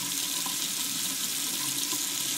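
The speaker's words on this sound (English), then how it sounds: "You see that water running out of that drain now?" Water from an open tap runs steadily into a bathroom sink and drains freely through a newly unclogged drain with the stopper up, making a continuous close splashing rush with no talk.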